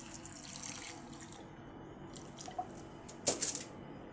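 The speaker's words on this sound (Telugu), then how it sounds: "ఇప్పుడు ఇందులో కొన్ని వాటర్ వేసుకుందాం" A short burst of splashing water near the end, poured into a pot of potato curry, after a few seconds of quiet kitchen background.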